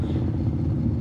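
Harley-Davidson motorcycles ridden by a Bangkok group idle with a steady, deep low rumble, close and continuous without any clear revving.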